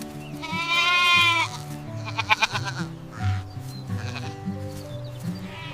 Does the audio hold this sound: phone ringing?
no